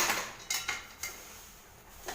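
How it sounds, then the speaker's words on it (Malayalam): A spoon scrapes and clinks against a pan while beaten rice (aval) is stirred for aval vilayichath, giving a few sharp metallic knocks over a soft, continuous scraping hiss. "അതിൽ കൊണ്ട് അവില് ഇട്ട് കൊടുക്കുകയാണ്. നമ്മൾ എന്നിട്ട് അത് ഒന്ന് ഇളക്കുകയാണ്."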